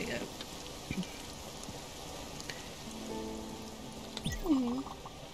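Rain in the video game Spiritfarer, a soft steady patter of drops on surfaces, fairly faint, with brief tonal game sounds over it.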